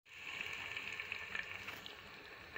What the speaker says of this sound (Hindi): तो व्यूअर यहाँ पे हम लोगों ने प्याज डाल दिए कुकर के अंदर, तो इनको हम थोड़ा सा कलर देते हैं